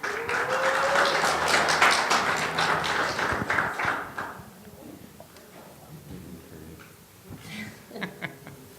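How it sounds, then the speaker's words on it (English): Audience applause at a 2018 San Mateo County sheriff candidate forum, a dense burst of clapping for about four seconds that thins to scattered claps and faint room noise. "please keep your applaud, don't applaud"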